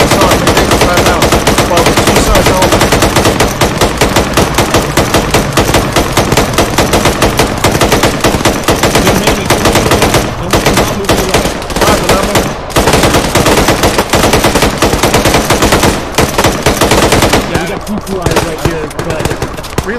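Machine gun fire rattles through a firefight as an enemy platoon is engaged, dense and loud bursts continuing almost without pause, with faint voices mixed underneath.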